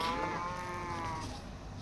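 A cow lowing in a video game, one long drawn-out moo, close and loud, heard alone without any talk.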